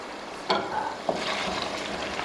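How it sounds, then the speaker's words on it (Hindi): Kaleji (liver) karahi sizzling in oil in a pan as it fries, with two sharp stirring scrapes standing out over a steady close hiss. "कलेजी जो है वो भुनना शुरू हो गई, ऑयल भी सरफेस पे आ गया।"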